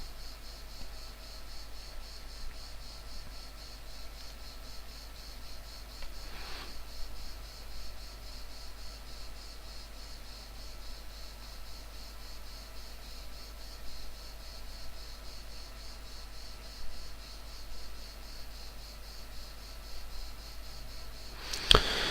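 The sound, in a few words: cicadas singing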